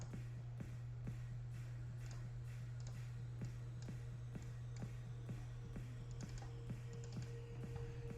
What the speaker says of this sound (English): I'm just gonna type it in.